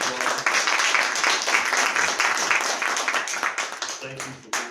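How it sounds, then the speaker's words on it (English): An audience at a civic gathering claps together in a sustained, fairly loud round of applause that runs for several seconds, thins, then briefly swells again at the end. "let's give a round of applause."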